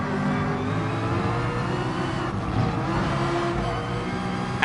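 A McLaren racing car engine in a video game drones loudly and continuously during an overtake, a steady high-revving whine with slight pitch shifts as the car pushes past, no voices.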